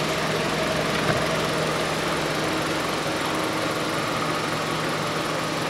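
A 2016 Hyundai Solaris engine idles steadily nearby, a constant low rumble and hum with no variation in speed and no voices.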